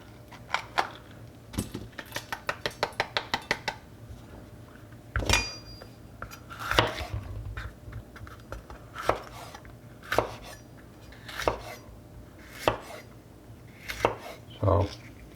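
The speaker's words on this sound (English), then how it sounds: "We'll slice peppers and onions both and freeze them." A knife slicing bell peppers on a cutting board for freezing: a quick, even run of close chopping taps, then slower, widely spaced single cuts, with no voices.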